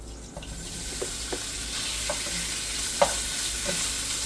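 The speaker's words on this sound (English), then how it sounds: "So now we're going to let that get brown on each side of the pan" Sausage fries in olive oil in a hot pan, giving a steady bright sizzle with a few soft clicks and taps as it cooks, and no voices.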